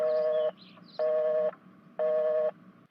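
Telephone ringback tone while a call is placed: three steady half-second beeps spaced one second apart, clear and alone with no voices.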